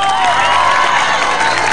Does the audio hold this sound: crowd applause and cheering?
yes